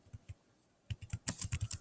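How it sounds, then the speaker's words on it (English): Keys on a computer keyboard are tapped, a few sparse clicks followed by a quick close burst of typing. "I'm going to type in Anansi."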